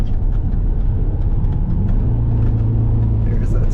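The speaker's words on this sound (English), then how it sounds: "There's that turbo. There she is." An Audi RS6 accelerates hard, its engine giving a loud, close, rumbling roar as a rising turbo spool tone builds in the second half, with voices partly mixed in.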